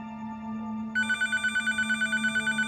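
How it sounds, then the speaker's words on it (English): A telephone rings with a fast, even electronic trill that starts about a second in and pulses steadily through to the end, close and clear over a low background hum. "when his phone rings"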